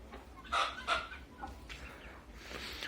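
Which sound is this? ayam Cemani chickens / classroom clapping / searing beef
ayam Cemani chickens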